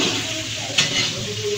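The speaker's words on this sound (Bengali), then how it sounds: "রান্না আমার বাবাই নিজে করছে। মাছ রান্না হইতেছে।" Fish cooking in a pan, with a close, steady sizzle of frying and a brief clink of stirring partway through.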